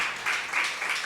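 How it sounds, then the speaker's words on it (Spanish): Congregation applauding in a church, a brief burst of steady clapping with no voices. "Denle un aplauso a nuestro Señor Jesús."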